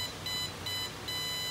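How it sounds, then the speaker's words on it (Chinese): A temperature controller's alarm beeping, loud repeated electronic tones in three bursts at a steady fast pulse, close up with no talk. "这个警报声的优点就是够大声"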